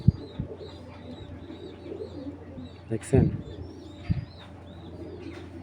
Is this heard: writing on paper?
no